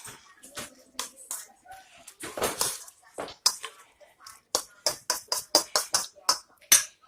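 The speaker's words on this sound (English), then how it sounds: "I'm going to go ahead and stir this up." Catfish cake mixture is stirred in a bowl, making a string of sharp, close scraping and clinking strokes in an uneven rhythm that quickens toward the end.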